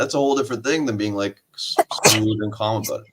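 A single short sneeze bursts out between stretches of conversational speech, close and fairly loud, with talking before and after it.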